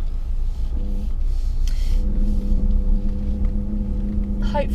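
Ford Ranger Raptor pickup idling, a steady low mechanical rumble with a faint whine, continuous and fairly close, a brief higher whirr near the end.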